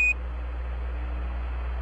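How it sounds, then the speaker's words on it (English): Apollo 11 lunar module program alarm sounding during the lunar landing: a short electronic beep at the start over a steady low radio hum, then only hum. "Same alarm, and it appears to come up when we have a 1668 up."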